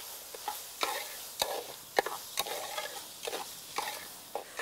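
Sofrito frying in a pan, a steady crackle with repeated scraping, stirring bursts, close by and fairly quiet, with no talking.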